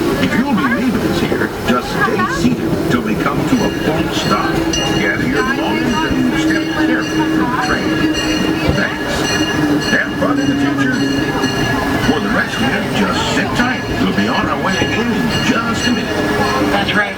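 Disneyland Railroad passenger train pulling into Tomorrowland Station, a steady loud rolling rumble with wheel squeal and rattling cars throughout, a voice talking over it.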